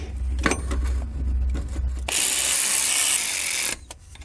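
A ratchet tightens silent block bolts on a Lexus LS400, a close, fast clicking run of about two seconds after some low rumble and handling knocks.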